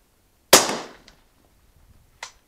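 Single suppressed shot from a Remington Model 7 bolt-action rifle in 300 Blackout firing subsonic ammunition through a Liberty Mystic X suppressor: a sharp close crack with a short decaying tail, then a fainter second impact-like pop about 1.7 seconds later.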